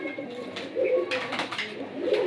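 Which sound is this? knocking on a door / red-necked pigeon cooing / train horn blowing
red-necked pigeon cooing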